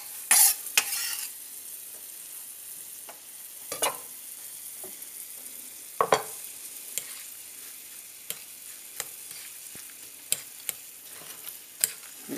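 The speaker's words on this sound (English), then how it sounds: "pop the quarters into the batter," Quartered Brussels sprouts being stirred into bhaji batter, a run of soft wet clicks and scrapes at irregular intervals, close and fairly quiet.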